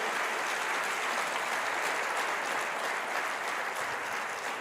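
A church congregation claps together in sustained, dense applause, loud and even throughout with no break, no voices rising above it.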